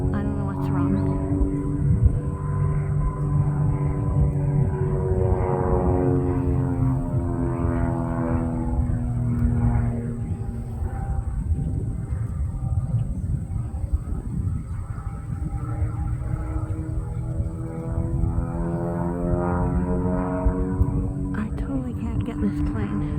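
A propeller airplane circles over a farm field during a drought-year soybean harvest, its engine droning steadily with a slowly wavering pitch as it passes around, while people talk nearby.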